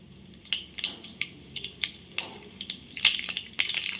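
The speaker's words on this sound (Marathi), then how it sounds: "आता तेल तापलेलं आहे सगळ्यात आधी आपण त्यामध्ये घालूया मोहरी" Mustard seeds dropped into hot oil in a pan pop and crackle in sharp, irregular bursts, close by, growing denser toward the end over a faint sizzle.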